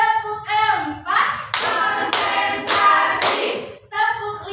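Schoolchildren in an Indonesian classroom clap in short rhythmic bursts on a teacher's cue, several sharp group volleys separated by brief pauses, with a voice speaking between the sets.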